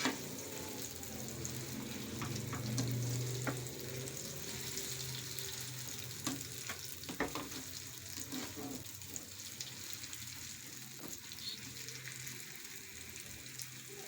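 Potato kebab mixture (shakarkandi or aloo gola kebab) being stirred and fried in a pan gives a steady, soft sizzle with scattered scraping clicks from stirring, close and continuous, with no talking.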